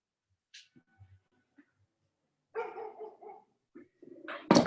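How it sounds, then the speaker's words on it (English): A big dog barks a few times, close and fairly loud, with quiet gaps and small thuds between the barks and no talking. "I hear big dog"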